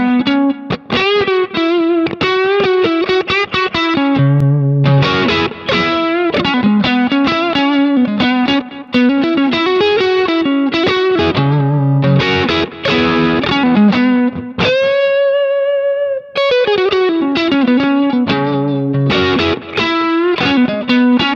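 Fender Stratocaster electric guitar played through a Kemper amp profile of a Twin Reverb, ringing out a continuous melodic line of picked notes and chords with a held bend near the end, loud and alone with no talk.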